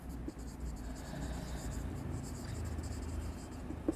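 Marker or chalk writing on a board during an accounts class, a steady scratchy stroking sound that runs throughout at moderate level beneath a low room rumble.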